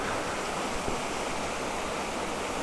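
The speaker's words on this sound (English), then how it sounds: "there's this amazing little waterfall just right here" A small waterfall, Serendipity Falls, swollen after a week of heavy rain, pours with a dense, steady rushing roar that fills the scene without a break or any voices.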